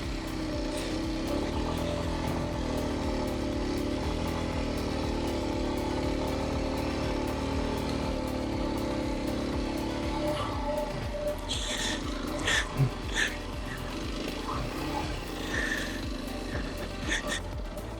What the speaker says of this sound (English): And this bike went up that hill just easy as can be